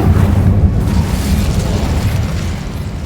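The Incendio fire spell in the Hogwarts Legacy video game bursts out as a loud, close roar of flame and rumbling blast, sustained and slowly easing off.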